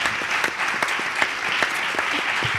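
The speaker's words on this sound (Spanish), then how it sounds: "Un fuerte aplauso" Audience applause during a live interview event, a dense crackle of many hands clapping with sharper individual claps popping out, steady and fairly close for the whole stretch.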